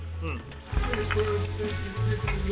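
Rendered bacon and caramelizing onions sizzle steadily in a frying pan, a close, continuous crackle with occasional stirring sounds and a faint voice underneath.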